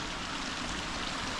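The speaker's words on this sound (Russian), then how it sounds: "посидеть здесь можно, послушать шум воды" A small mountain stream runs over little cascades near Natukhaevskaya, a steady, even rush of flowing water heard at moderate distance with no talk.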